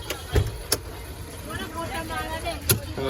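An auto rickshaw's engine drones steadily through a ride, a low rumble with a few bumps and knocks. People talk over it.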